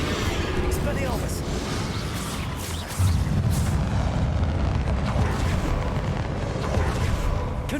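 Spell explosions of Confringo and Bombarda in Hogwarts Legacy form a continuous roar of booms and bursts through the whole stretch. A dense blast swells partway through, and a voice calls out over the din.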